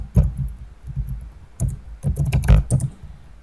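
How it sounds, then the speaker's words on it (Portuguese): Typing on a computer keyboard, brisk clusters of close, crisp key clicks with brief gaps between bursts, heard alone without talk. "Por exemplo, eu vou digitar código novamente."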